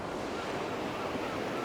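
Sea waves wash steadily onto a coast lined with wooden groynes, a continuous broadband roar of surf mixed with gusting wind buffeting the microphone, with no distinct breaks or voices.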